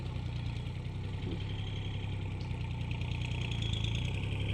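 A two-wheel hand tractor's small engine runs steadily with a rough, chugging drone, loud and continuous throughout, while tilling a rice field.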